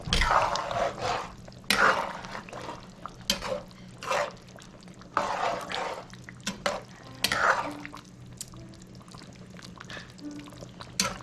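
A spoon stirs chicken curry in a pot with repeated scraping and sloshing strokes in uneven bursts. The sound is close and moderately loud, and no voice is heard.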